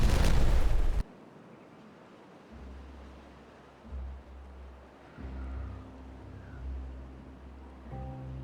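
A blast tears through terrain in the beaver colony-building game Timberborn: one loud, dense burst for about a second, then quieter rumbling game ambience with low tones and a few soft chimes.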